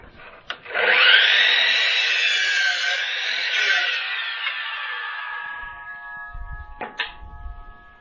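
Wood is sawn along a marked line while building a vertical vegetable planter: one loud, continuous cut lasting several seconds close by, fading out before a couple of sharp knocks.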